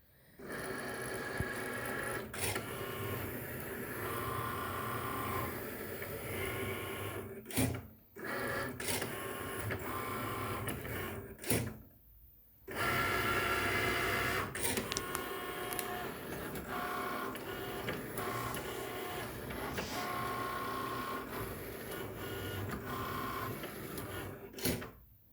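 An electronic cutting machine working through material on a cutting mat, whirring and buzzing steadily with repeated short pauses and stop-start carriage moves, close and fairly quiet.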